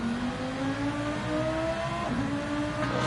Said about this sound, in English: Just heard the revs rising.